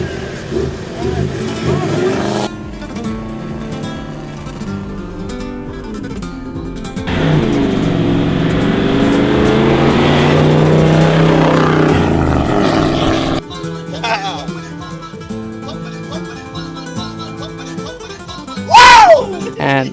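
An Ineos and a Toyota Land Cruiser 4x4 race while overlanding in Maputaland, with engine drone swelling loudly through the middle then fading, between stretches of talk and background music.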